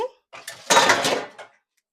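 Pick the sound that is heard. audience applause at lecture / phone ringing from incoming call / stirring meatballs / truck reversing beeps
stirring meatballs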